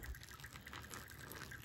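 Water pours from a gooseneck kettle onto coffee grounds in a pourover, a soft, continuous trickle and splash, close and quiet, with no talking.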